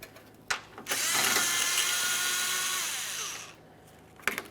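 A power tool spins out a 7mm-headed mounting bolt holding a plastic panel on a 2017-2024 GMC Acadia, a couple of short clicks and then one sustained high whir of about two and a half seconds, close and loud.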